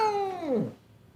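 A single long, drawn-out meow from a cat at the vet, close and clear, falling in pitch before fading into quiet.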